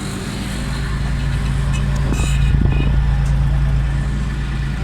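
A Suzuki Cultus three-cylinder engine runs at a steady, smooth idle with a low, even hum and faint tappet clatter, close and continuous throughout.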